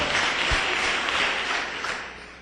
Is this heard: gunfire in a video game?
no